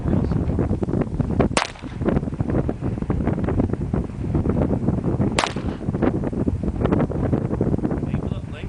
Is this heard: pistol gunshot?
yes